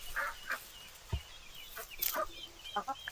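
Laying hens clucking in short, scattered bursts, several quiet clucks and squawks spaced irregularly over a low background hush.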